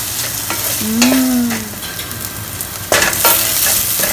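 Dry chilies and aromatics stir-fry in a hot pan, a loud close sizzle running throughout with scraping stir strokes and a brief clatter near the end, no one speaking.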